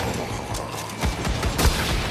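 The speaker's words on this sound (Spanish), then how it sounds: "La escopeta para casos extremos." A shotgun fires in the zombie shooter Zombieland Headshot Fever, several sharp, loud blasts in quick succession with booming low ends over a noisy game background; no talking.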